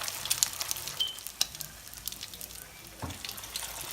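Salmon patties sizzle and crackle in hot extra virgin olive oil, a soft continuous frying hiss with scattered pops and a couple of louder clinks, fairly quiet.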